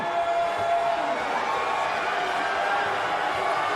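Boxing arena crowd roaring and cheering on two exhausted fighters late in a round, a steady dense wall of noise with no pauses, loud and continuous throughout.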